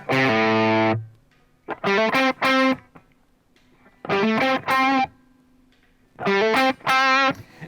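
An electric guitar run through a distortion effect block on an Axe-Fx II plays short bursts of saturated chords and riffs, separated by brief near-silent gaps, loud and close with no voices.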